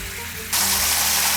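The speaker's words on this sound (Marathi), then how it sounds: "इथे मासे ना सेपरेट पॅनमध्ये थोडेसे हाफ फ्राय करून घेऊया आपण" Masala-coated fish half-frying in a separate pan, a quieter hiss that abruptly swells into a loud, bright, continuous sizzle as the fish hits the hot oil.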